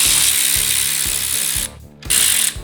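A ratchet wrench clicks in quick repeated bursts while loosening bolts to pull a damaged engine's oil pan, with a brief pause before the ratcheting resumes close and loud.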